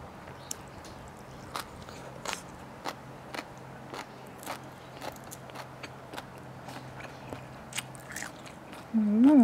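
Crunchy bites of crispy-skinned chicken eaten close to the mic at a mukbang meal alongside spicy papaya salad and sticky rice, repeated sharp crackly bites and chewing at a steady pace with no talk.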